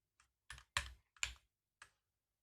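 Five separate keystrokes clatter on a computer keyboard, crisp close clicks in an uneven rhythm with silence between them.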